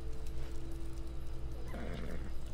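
A horse in Assassin's Creed Odyssey whinnies loudly and close, a drawn-out neigh rising near the end over a constant game background hum, with faint hoofbeat-like clopping.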